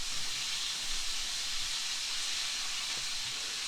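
Very large chicken wings fry in hot oil, giving a steady, close sizzling hiss with a faint crackle that holds evenly throughout, with no talking.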